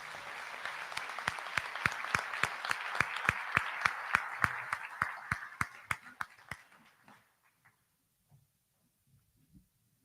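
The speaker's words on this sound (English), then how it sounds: "Let's give them all a round of applause." An audience at the Braham Class of 2023 high school commencement applauds with a loud, steady wash of clapping for about seven seconds, then it thins to a few scattered claps and fades to near silence.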